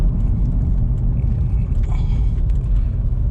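A 2009-era Chevrolet Corvette ZR1 C6 with its supercharged V8 drones with a deep, steady rumble from inside the cabin, loud and constant while the car rolls over a gravelly surface, with no voices.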